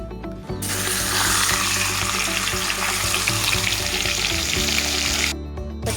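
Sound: head frying in hot oil in a pan

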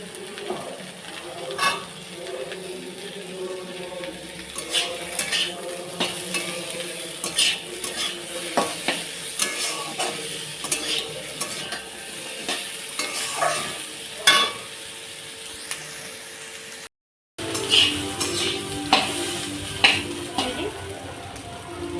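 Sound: potatoes and onions frying in pan

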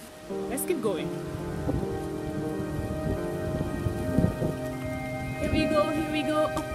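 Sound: rain falling on a trail in Dominica

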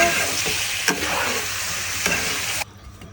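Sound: apple added to frying Tengra fish broth, sizzling

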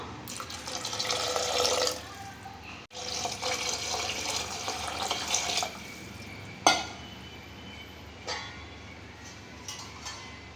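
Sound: water poured into cooking pan

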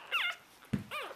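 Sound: three-day-old puppy whimpering

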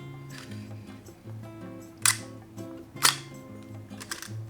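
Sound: film camera shutter firing on bulb setting

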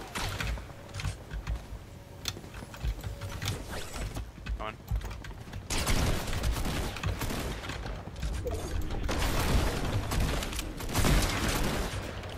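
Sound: hunting rifle gunshots in Fortnite video game

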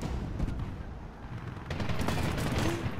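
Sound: gunfire in the video game Medal of Honor 2010

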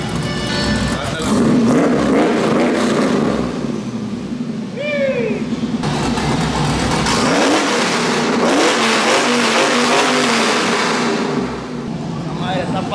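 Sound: truck with new loud exhaust revving

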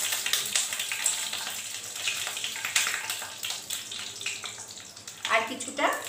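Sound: bay leaves and dried red chillies frying in mustard oil

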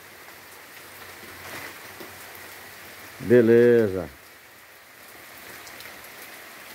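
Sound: heavy rain

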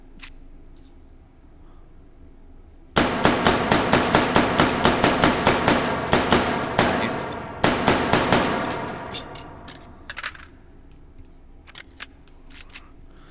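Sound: rapid gunfire in the video game H3VR

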